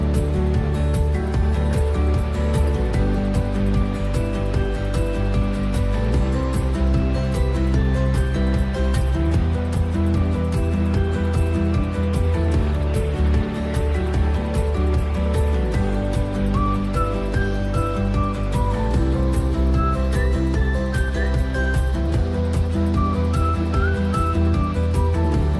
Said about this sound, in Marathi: धबधब्याचा खळखळणारा आवाज मनात भरत होता